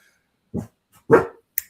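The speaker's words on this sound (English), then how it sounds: "my dogs are freaking out" Several short barks from pet dogs inside a home, three separate bursts spaced across under two seconds, fairly close and moderately loud, with no talking over them.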